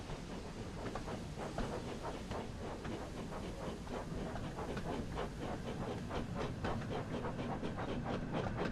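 A steam train moves along the track in the video game Thomas and Friends: Wonders of Sodor, giving steady rhythmic chugging and clickety-clack over a constant hiss, moderately quiet and continuous.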